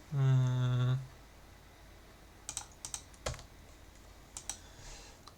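A short buzzing tone opens, then after a pause a computer keyboard clicks in scattered, irregular keystrokes, close and crisp against a quiet background.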